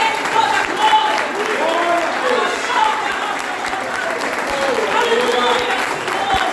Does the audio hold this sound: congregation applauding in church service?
yes